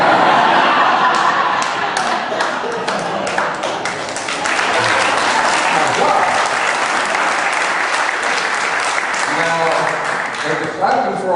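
A church congregation claps loudly during a Sunday sermon, sustained dense applause with scattered thumps and light laughter, filling the room for several seconds.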